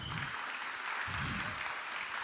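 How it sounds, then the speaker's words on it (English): Audience applause for a panel of speakers at an accessibility discussion event, a steady wash of clapping that fills the room for a couple of seconds. "so a great applause for all of our great panelists"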